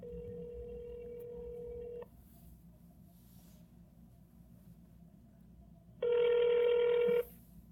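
A phone line gives two tones during a call: a steady tone that runs for about two seconds and stops, then after a quiet gap a louder, brighter ring-back burst that lasts just over a second. A faint background hum sits under both.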